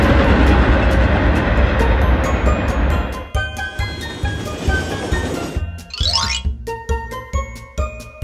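Subway train: a loud rushing rumble of cars rolling past up close for about three seconds, easing into rattling, clanking and ringing metallic tones with a brief rising squeal.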